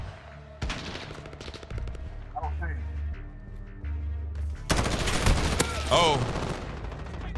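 Rapid bursts of automatic gunfire in Call of Duty: Modern Warfare, loud and repeated, with a player's voice speaking briefly amid the shooting.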